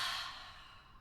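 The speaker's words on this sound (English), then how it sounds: "Exhale powerfully through the mouth." A single forceful breath is pushed out through the mouth during a Kundalini yoga meditation, a close, breathy rush that starts strong and fades over about a second, with no talking.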